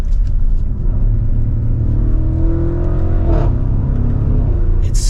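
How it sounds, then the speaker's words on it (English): A 2023 Audi SQ7 Prestige on the move, its steady loud engine and exhaust rumble carrying through the cabin, with a brief crackle-like flutter near the middle and no talking. "I love that small crackle in the exhaust."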